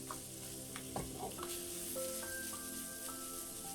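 Minced pork frying in a pan for steamed tofu with minced pork, a steady soft sizzle with scraping and stirring as the meat is broken into bits, a few sharper utensil knocks near the start, no talking.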